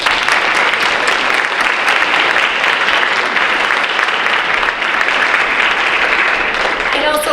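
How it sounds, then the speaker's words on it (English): Sustained applause from an audience at a National Honor Society induction ceremony, a steady dense wash of clapping that continues evenly throughout. "just a round of applause for them"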